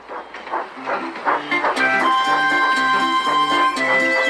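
A cartoon steam engine, Thomas, chuffing along with rhythmic puffs and hissing steam under a bright musical score.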